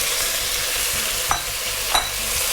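Cuttlefish sauté over high heat in a pan for a fish stew, a steady broad sizzle with a couple of soft stirring scrapes, close and without talking.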